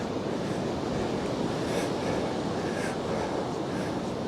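Waves wash onto a Northumberland beach during cod fishing, a steady, loud roar of surf mixed with wind buffeting the microphone, continuous and unbroken, with no talking.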